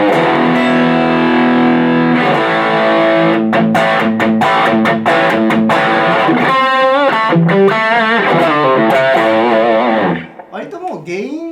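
An electric guitar plays through a Yamaha THR10II amp on the lead channel with gain at the midpoint, giving a loud, moderately distorted tone: sustained chords, then quick muted strums and rapid bent single notes before a quieter trailing phrase.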